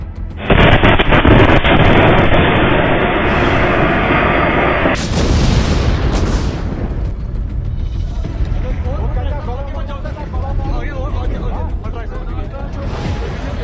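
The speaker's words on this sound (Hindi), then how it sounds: "नौगाम पुलिस स्टेशन के अंदर बड़ा धमाका हुआ" A loud, booming blast of seized explosives inside a police station erupts with a long roaring rumble, followed by ongoing noisy commotion and voices in the background.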